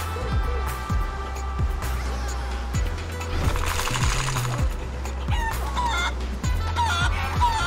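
Video game chicken from Guacamelee! clucks repeatedly over a steady game soundtrack, with a crowing call mixed in among the busy in-game sounds.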